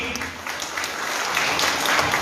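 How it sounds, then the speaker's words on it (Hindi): Enthusiastic applause from guests at an engagement ceremony, a thick wash of clapping that swells louder toward the end. "एक बार जोरदार तालियां सभी के जोरदार तालियां, जोरदार आवाज है तालियों की।"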